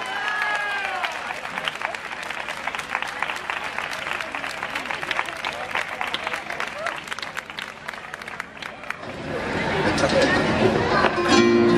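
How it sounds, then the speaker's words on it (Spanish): Audience clapping for a flamenco dance group at an outdoor fair stage, with scattered distinct claps over crowd chatter and murmuring voices, then a denser, louder swell of crowd noise near the end. "Un fuerte aplauso para ellos."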